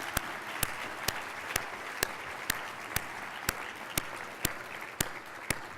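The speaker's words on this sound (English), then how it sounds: "Give them a big round of applause," Fairly faint audience applause at a global health metrics and evaluation conference: a soft, steady wash of clapping with sharper claps standing out at an even rhythm, with no talking.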